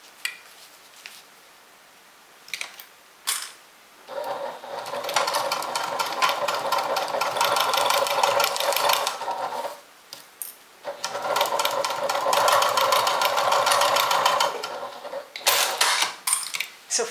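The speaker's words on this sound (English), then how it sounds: "we're going to stitch using a 1/2 inch seam allowance." Sewing machine running a half-inch seam on a makeup and toiletry bag, two long steady bursts of rapid mechanical stitching separated by a pause, with fabric handling and clicks before and after.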